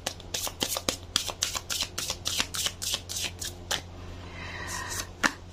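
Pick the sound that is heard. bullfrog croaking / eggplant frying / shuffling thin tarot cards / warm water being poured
shuffling thin tarot cards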